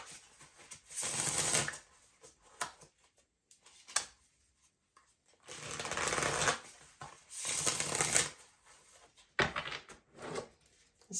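An Intuit Oracle card deck is shuffled by hand in several crisp, riffling bursts of a second or two each, with short quiet gaps between, close and fairly loud.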